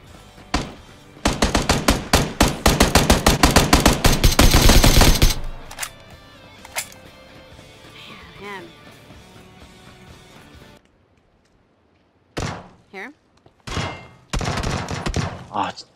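Bursts of automatic gunfire from the PUBG battle royale shooter, loud rapid volleys in the first seconds, then quieter game ambience and later a few sharper shots and short bursts, with someone talking over it.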